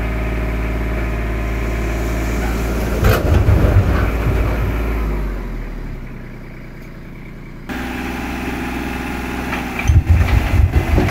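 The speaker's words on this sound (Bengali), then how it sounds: "এই গাড়িটাতে অনেকগুলো ফল আসছে" A truck loaded with fruit idles nearby, its engine holding a low, steady drone that rises in a couple of revving surges, dips quieter for a moment, then resumes.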